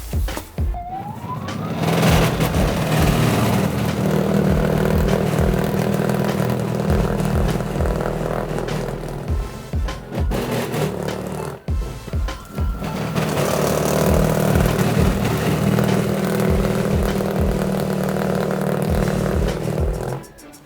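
A Toro battery-operated snowblower runs steadily with a loud, continuous electric whine and churning roar, briefly dipping near the middle before resuming at full power.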